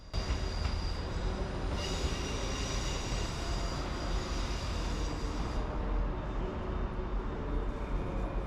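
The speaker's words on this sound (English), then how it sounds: "Currently standing here is a class 156 for the 12:18 service to" A Class 156 diesel multiple unit idles at a station platform on the Liverpool–Manchester line, giving a steady, dense engine rumble and hum with a faint high whine throughout, and no voices.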